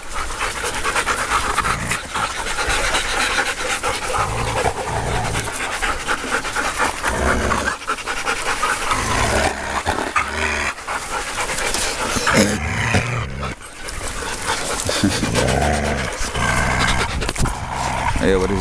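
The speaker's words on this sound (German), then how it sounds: "Ja, aber das ist kein ernstes Knurren" Several female dogs in heat in a pack pant heavily and give low, non-serious growls close by, continuous throughout, with a person talking over them and a faint engine rumble in the background.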